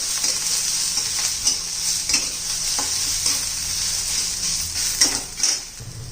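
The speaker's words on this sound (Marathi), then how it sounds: "आता त्याच्यामध्ये आपण हे खोबरं घालून घेऊया. कांद्याबरोबर ते पण भाजून घ्यायचं आहे." Grated coconut and onions roasting in a pan give a bright steady sizzle, punctuated by repeated scraping and knocking of a spatula stirring against the pan, close and fairly loud.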